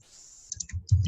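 Typing on a computer keyboard during a Zoom whiteboard math lesson, a short cluster of soft, close key clicks that grows slightly denser toward the end, with no speech.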